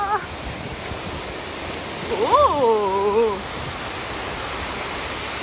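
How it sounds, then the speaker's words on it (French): Steady broadband rush of a waterfall, loud and continuous throughout, with a woman's brief exclamation rising over it midway. "il y a des cascades, attendez"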